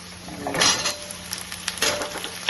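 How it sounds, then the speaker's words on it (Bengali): Potato pieces fry in hot oil in a pan with onions already browned, a close sizzle with a few clatters and stirring scrapes. "দিয়ে আলুটাকে এমনি ভাজি"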